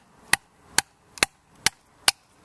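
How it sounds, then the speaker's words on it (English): A wooden baton strikes wet wood resting on an anvil log, giving five sharp, evenly spaced knocks in quick succession, each one loud and close with quiet between them. "I made a little baton out of some nearby stuff, and I'm going to need to put this on somewhat of an anvil here because the ground is really soft"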